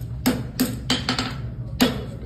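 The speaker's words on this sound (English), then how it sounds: "My hammer blow travels the same distance every time." A farrier's hammer strikes a horseshoe on an anvil in a shoeing clinic: five sharp metallic blows, the first three evenly spaced, then a quick double hit, a pause and a final strike, close and clear.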